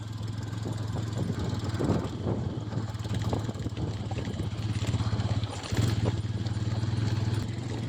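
Bajaj Pulsar N125 motorcycle climbing a rocky hill road off-road, its engine thrumming loud and uneven with bumps and rattles over stones, mixed with wind buffeting the microphone.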